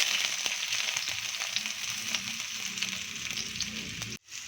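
Onion sizzling in oil in a wok for a Filipino sauté before garlic, tomato and ampalaya go in, a steady close crackling hiss with small pops throughout, cut off abruptly near the end.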